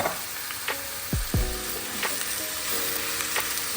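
Onions, green peppers, tomatoes, mushrooms and celery sizzle in a pan for spaghetti sauce, a close steady frying hiss with a few sharp utensil scrapes and knocks near the start.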